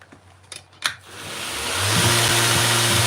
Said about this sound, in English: I cut it out on the bandsaw, and away I go